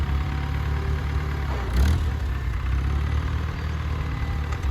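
A 1949 Farmall Cub tractor engine idles steadily and loud, shifting briefly as it is put into gear with a short clunk midway, then settling back into its even low chugging rumble.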